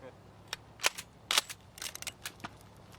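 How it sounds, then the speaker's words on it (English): A toy gun fires little candy bullets as a movie sound effect, a quick irregular series of sharp cap-gun-like pops and cracks, loud and close, with a faint voice underneath. "It shoots little candy bullets."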